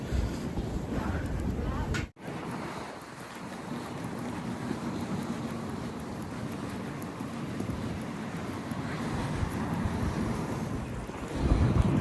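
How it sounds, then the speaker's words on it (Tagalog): Strong wind buffets the microphone outdoors in a steady, roaring rumble that persists throughout, with a short dip near the start and a gust swelling toward the end. "Sobrang windy."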